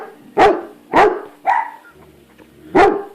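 A dog barks four times close and loud, sharp single woofs in an uneven rhythm with a brief pause before the last.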